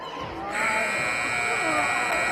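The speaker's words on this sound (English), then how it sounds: "as the buzzer goes off, the ball's knocked away from her" A basketball game buzzer sounds at the end of a girls' high school varsity game, a loud sustained electronic tone starting half a second in and holding steadily over gym crowd noise.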